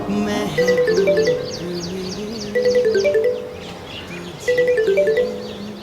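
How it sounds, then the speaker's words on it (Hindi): A mobile phone rings with an incoming call at an army post, its melodic ringtone repeating in three bursts over a bed of background music. "सर, राकेश की बहन का कॉल आ रहा है।"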